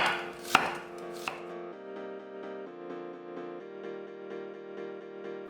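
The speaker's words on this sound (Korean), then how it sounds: "양파 4분의 1개는 살짝 굵게 채 썰어 담고" A quarter onion being sliced thickly with a knife on a cutting board: two sharp, separate chops early on, then steady tonal background music with no further cuts.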